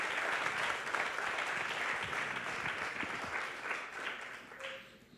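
Round of applause from a conference audience thanking the panelists of a round-table on sport and sustainable development, dense steady clapping fading slightly toward the end with no talk over it.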